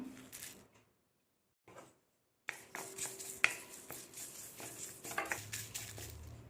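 Curry leaves being dry-roasted and stirred in a pan: a spatula scrapes and clinks against the metal in quiet, irregular strokes, with brief pauses and close, faint rattles.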